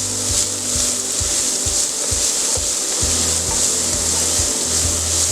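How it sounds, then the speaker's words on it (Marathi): Chopped onion sautéing with mustard seeds in a spoonful of oil: a steady, even sizzle and hiss throughout, with regular soft scraping strokes of a spatula against the pan, close and alone without any voices. "1 चमचा तेल, राई, कांदा चांगलं परतून घेऊया."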